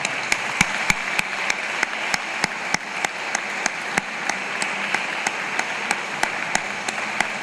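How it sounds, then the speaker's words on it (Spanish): A conference audience gives a guest speaker a sparse round of applause, with a handful of distinct, evenly spaced claps standing out over a soft hiss of lighter clapping for several seconds. "me gustaría pedirles que me acompañen a agradecerle a nuestro invitado de hoy con un fuertísimo aplauso"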